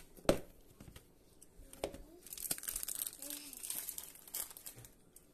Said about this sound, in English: I'm just going to take the coconut and I'm just going to end up mashing this all by hand